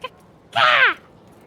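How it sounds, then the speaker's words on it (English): A loud bird call in the fantasy video game Dragon Age: Inquisition, a single harsh, descending cawing cry lasting under half a second, preceded by a brief click. "Look at this cool bird. Oh, he's loud. Yeah, he's really loud."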